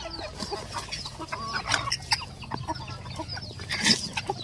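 Several white-eared Thai ornamental decoy chickens cluck and chatter nearby in an outdoor farmyard, with irregular clucks overlapping and a few sharper calls standing out.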